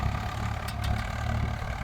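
A tractor engine runs steadily during chickpea sowing in a farm field, a low continuous rumble at moderate distance with no talk.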